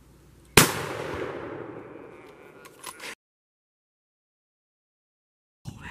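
A rifle fired at a deer during a hunt: one sharp, loud report that rolls off in a long echo lasting a couple of seconds, then silence before a brief noise at the end.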